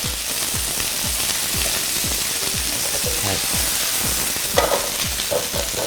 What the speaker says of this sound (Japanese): 照りよく炒めるっていうことが大事なんで、少しずつ立ちながら炒めてください